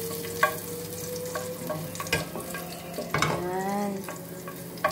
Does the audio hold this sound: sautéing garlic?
yes